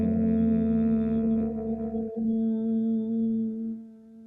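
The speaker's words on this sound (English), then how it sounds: "That's a long hum." A person hums a single sustained, steady tone on one long exhale during a breathing exercise, close and clear, lasting several seconds before fading out at the end.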